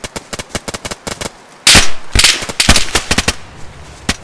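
Gunshots in the DayZ Standalone video game, a fast run of sharp close cracks followed by louder, heavier bursts of fire with short gaps between them.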